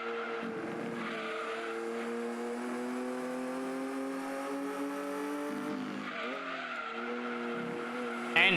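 A race car drifting in Gran Turismo 2, the engine holding a steady droning note while the tires skid and squeal, the pitch dipping and rising through the slide, with a sharp bump at the end.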